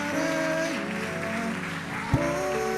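Church congregation applauding during a worship service, a broad steady wash of clapping sustained throughout under organ or keyboard tones, with one sharp louder thump near the end.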